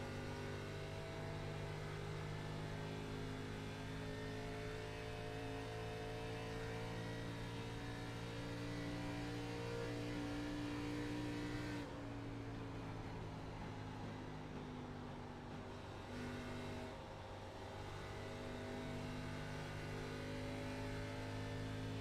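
Race car number 69 on throttle at Atlanta, a steady sustained engine drone with strong harmonic tones and a slight pitch dip midway, close and continuous with no talk.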